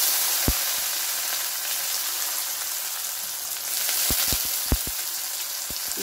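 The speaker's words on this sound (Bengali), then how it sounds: "হয়ে গেছে, এবার চালটা দিয়ে দেবো।" Soaked rice added to a hot pan for banana flower moti pulao, giving a steady, loud frying sizzle with a few sharp clicks of a utensil stirring near the end.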